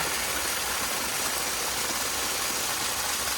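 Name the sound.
water flowing out of an IBC tote down a swale pathway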